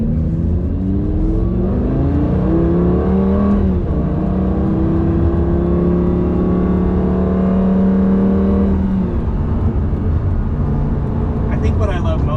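A Lamborghini Gallardo driven in sport mode revs hard, its engine note climbing through the gears, dropping at a shift and then rising again, loud and close inside the car over a steady road roar.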